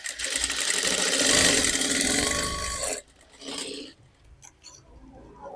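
Sewing machine stitching blouse fabric, a fast continuous whirring rattle for about three seconds, then stopping, followed by quieter short bursts and handling sounds close by, no talking.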